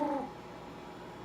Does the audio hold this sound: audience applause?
no